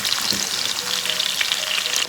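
Pieces of king fish fry in hot oil in a pan with a steady, dense crackling sizzle, close and continuous with no talk.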